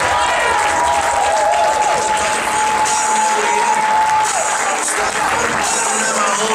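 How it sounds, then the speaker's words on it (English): A conference audience in Atlanta gives a loud, sustained round of applause with scattered cheers, continuing steadily from start to finish. "Let's give him a big round of applause."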